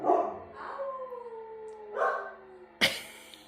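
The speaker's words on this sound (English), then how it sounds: "She's trying to teach Hades to howl" Pet dog howling indoors in a home, a drawn-out wavering howl that rises and falls twice, close and fairly loud, ending with a sharp short bark.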